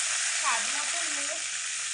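Cinnamon, green cardamom, cloves, turmeric and salt sizzle steadily in a pan for cauliflower kalia, a close hiss with a soft scrape of stirring underneath.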